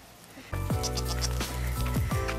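A small herd of goats bleating in a farm pen, several close, loud overlapping cries in quick succession amid shuffling hooves.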